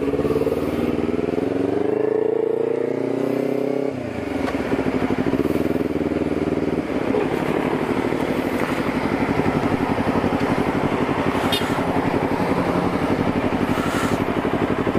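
A motorcycle engine idles, then revs and pulls away, settling into a steady, rattling ride with wind noise throughout.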